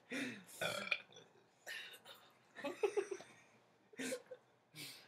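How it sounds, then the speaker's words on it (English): Loud burps from several people in a burp contest, coming in a run of throaty bursts of varying length separated by short pauses, with light laughter between them. "Let me still get my burps out."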